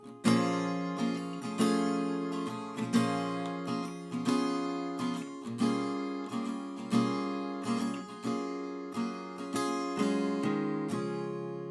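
An acoustic guitar with a capo plays the intro of a song alone, with plucked chords ringing out in a steady, even rhythm, bright and close.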